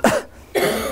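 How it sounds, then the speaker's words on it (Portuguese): Two sharp coughs, close and loud, separated by a short pause. "Agora eu vou ter um excesso de tosse."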